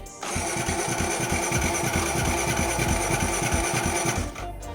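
A motorcycle engine starts and runs with a steady, rapid chugging pulse, close and loud for a few seconds before cutting off.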